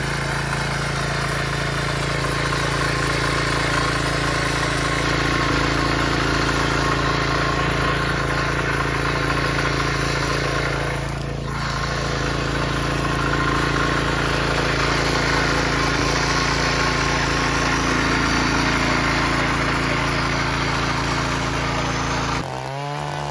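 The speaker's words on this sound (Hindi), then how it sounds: "मात्र 63 सीसी का इंजन है भाई, और परफॉर्मेंस देखो जबरदस्त।" A small 63 cc engine on a farm tiller runs steadily and loud throughout, a constant droning roar as it works soil, with no break in the sound.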